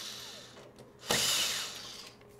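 A power driver loosens the lock screws on a server rack's sliding rails, with a short buzzing burst of the motor after a few faint clicks, heard up close.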